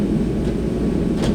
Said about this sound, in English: You can hear the heater in the background